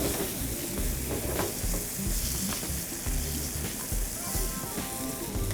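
Chicken tenders with Ketchum spice fry in oil in a steady, dense crackling sizzle, close and continuous with small pops throughout and no talking.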